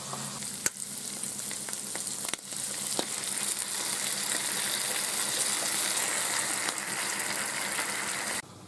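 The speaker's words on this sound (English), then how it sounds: "got to fry this for a minute" Food frying in a pan during home cooking of a meal-kit tortilla dish, a steady close sizzle running throughout with a few brief clicks and clatters of a utensil over it.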